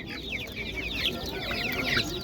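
Several two-month-old ornamental chickens, including Light Brahmas and Silver Wyandottes, clucking and chirping together nearby at a bird market, a busy overlapping flock chatter that continues throughout.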